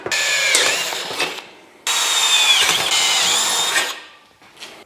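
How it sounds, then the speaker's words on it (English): A power drill drilling holes through a tube whines in two long bursts, its motor pitch dipping as it bites through the material, with short pauses and a brief third start. "So drilling out these holes"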